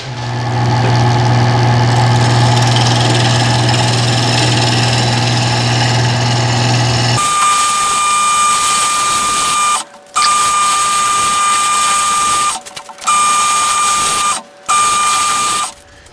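A wood lathe spins a mesquite box blank, a loud steady motor hum with tool-on-wood rasping. The tone shifts partway through, and the sound cuts out briefly several times toward the end.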